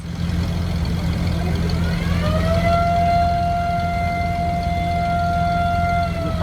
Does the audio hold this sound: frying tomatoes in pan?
no